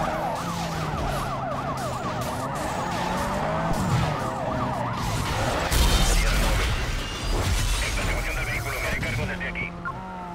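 Police car sirens wail in a chase in the video game Need for Speed Most Wanted, warbling under engine noise, crashes and someone talking over the action.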